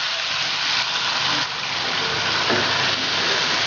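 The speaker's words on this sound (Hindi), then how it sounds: "इसे तेज़ फ्लेम पर फ्राई करेंगे" Chicken and masala fry in ghee over a high flame, a steady loud sizzle and hiss close by with faint stirring sounds throughout.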